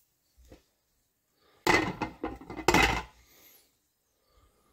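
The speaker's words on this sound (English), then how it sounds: "stir it up a little, get some of those juices all around" Pulled pork being stirred in a slow cooker, a few close wooden knocks and scrapes against the pot in a short cluster, with faint sounds before and after.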